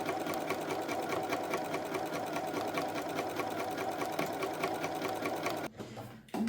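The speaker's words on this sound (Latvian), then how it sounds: "šādi te šūšanas procesā audums iet gar to pēdiņas maliņu, un es lieliski nošuju taisni" A Bernina B570 sewing machine stitching fabric runs in a steady, fast, loud mechanical whir of needle strokes, then stops abruptly near the end, followed by a brief click.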